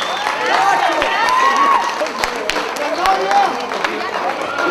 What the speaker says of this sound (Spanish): un aplauso para Franklin y su bella esposa que vienen desde República Dominicana